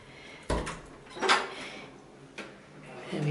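An apartment entrance door opens with a sharp latch click, a swishing creak of the swinging door, and another knock-like thump a moment later, close by in a quiet hallway.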